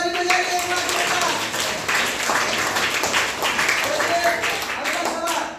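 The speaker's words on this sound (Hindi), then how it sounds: "शाबाश, ताली बजाइए एक बार जोरदार।" Classroom students clapping loudly together in a dense, continuous burst of applause that holds steady throughout, with some voices mixed in.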